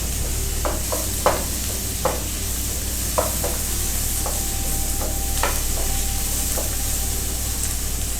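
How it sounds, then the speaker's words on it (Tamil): Ground cumin, coriander powder and garam masala for butter chicken sauté in a pan with a steady close sizzle, broken by clinks and scrapes of a stirring spoon, with no talking. "மல்லித்தூள், கரம் மசாலா, இது எல்லாம் இப்போ போட்டு நல்லா வதக்கிட்டு இருக்கோம்"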